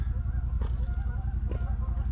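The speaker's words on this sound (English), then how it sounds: "Here comes a bunch of geese." A flock of geese honking at a distance over a steady low background rumble, with a few brief louder calls standing out.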